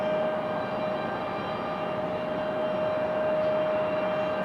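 An Airbus A321-200 airliner at an airport gives off a steady broad roar of jet engine noise with a constant tonal whine, sustained and fairly loud with no talking.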